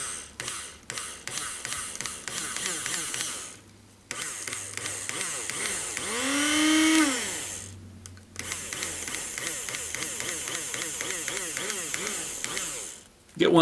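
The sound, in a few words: coffee grinder being switched on to mix fly-tying dubbing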